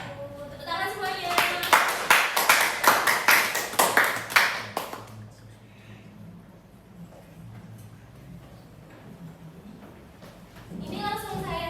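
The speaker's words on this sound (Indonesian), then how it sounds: "Tepuk tangan semuanya." A class applauds together in a micro-teaching session, a burst of dense hand clapping lasting about four seconds that then fades into quiet room noise, with voices talking near the end.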